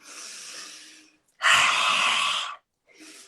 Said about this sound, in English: exhale through the mouth with the tongue extended as far out as possible with a real roar